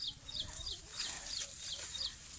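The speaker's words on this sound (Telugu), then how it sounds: "ఏంటి అన్ని కోళ్ళు పెట్టారు?" Chickens cluck repeatedly at a farm with fruit trees, short bursts of clucking in a loose rhythm, moderately near against a soft outdoor background.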